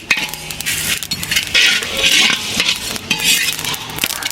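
Dry spices (coriander seeds, cumin and a little fenugreek) with dried coconut pieces roasting in a pan over low heat for a stuffed brinjal curry, with steady scraping, stirring and clinking of a utensil against the pan and a soft sizzle throughout.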